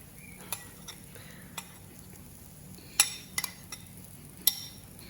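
Sauce added to tempeh in a hot pan, a quiet sizzle under scattered clinks and scrapes of a utensil against the pan, with a few sharper taps near the end.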